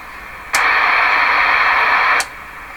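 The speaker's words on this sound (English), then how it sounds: "a lot more hiss" A steady burst of static hiss from a Johnson Messenger CB radio receiver switches on abruptly, holds at an even level for under two seconds, then cuts off.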